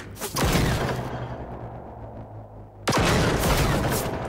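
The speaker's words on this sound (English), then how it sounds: "Oh, now he's shooting at me." Enemy gunfire in the Generation Zero shooter game, two loud bursts of rapid shots at close range, the first fading into a rumbling tail before a second heavy volley erupts.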